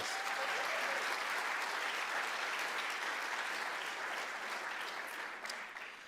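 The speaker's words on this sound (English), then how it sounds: "Let's give Chief Eastman a big round of applause" A large audience at a city's State of the City address claps in sustained, dense applause that holds steady and loud before tapering slightly at the end.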